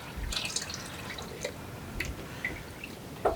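Coconut water poured into a pot of parboiled rice, a soft continuous trickle with scattered drips and small splashes, fairly close and quiet.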